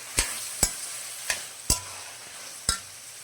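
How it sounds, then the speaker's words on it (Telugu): A spoon stirs tomatoes, slit green chillies and ginger-garlic paste in a pan for a meal maker and green pea masala curry, five sharp scraping knocks spaced irregularly over faint sizzling, close and alone. "టమాటాలు పచ్చిమిరకాయలు రెండు పచ్చిమిరకాయలు అండి పొడుగ్గా కోసుకున్న రెండు పచ్చిమిరకాయలు మొత్తం వేసుకొని ఇలా బాగా కలుపుకోవాలండి"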